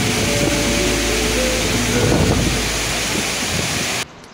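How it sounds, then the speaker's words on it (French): Loud, continuous roar of a waterfall in the Dolomites, a dense rushing wash close by, with some wind buffeting the microphone, cutting out abruptly near the end. "Je viens d'arriver en face de la cascade."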